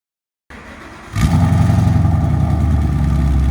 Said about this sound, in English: That's with the valves closed. It's idle.